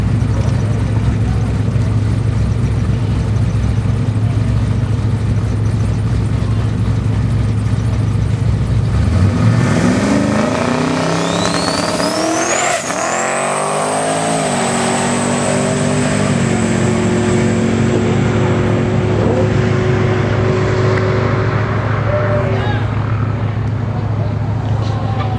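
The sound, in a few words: twin turbo 1989 Chevrolet Camaro drag racing run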